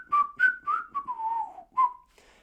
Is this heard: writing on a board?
no